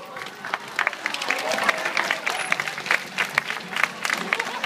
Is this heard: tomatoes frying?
no